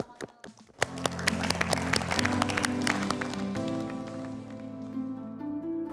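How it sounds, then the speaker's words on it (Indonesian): Audience applause at a pitch-competition stage show, starting with a few scattered claps and quickly swelling into steady, dense clapping from a crowd, moderately loud, then continuing under a lingering musical tone. "Tepuk tangan sekali lagi"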